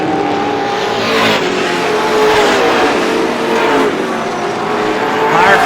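Race cars lapping the oval at Star Speedway during the GSPSS 100, a dense steady roar of several engines blending together, loud and continuous, with a race announcer talking over it.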